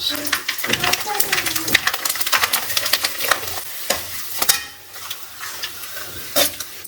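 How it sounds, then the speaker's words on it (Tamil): Sago and potato appalam frying in hot oil, a steady crackling sizzle broken by scraping stirs and clinks of a ladle against the pan, up close, with someone speaking Tamil over it. "நம்ம அப்பளத்தை போட்டு பொரிச்சுக்கலாம்"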